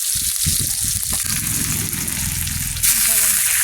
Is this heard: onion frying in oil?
yes